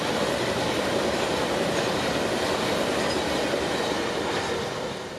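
A freight train rolls past on CSX's Florida mainline, a steady, loud, continuous rumble of wheels and cars that holds for several seconds before easing slightly at the end, with no talking.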